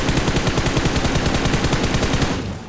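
Rapid automatic gunfire in a battle royale video game, a loud, evenly spaced stream of shots lasting nearly three seconds before tailing off, with no speech.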